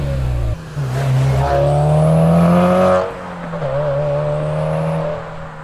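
A car fitted with an HKS full titanium exhaust revs up and holds a loud, rising drone, drops off, then revs again with a raspy exhaust note, close and dominant.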